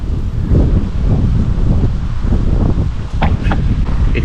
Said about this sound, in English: It's pretty windy here again this morning